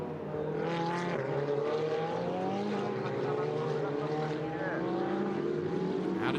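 Ferrari Challenge race cars at Fuji Speedway roar downhill in a close battle, a sustained high engine drone with rising and falling pitch as they pass, heard from a distance and steady throughout.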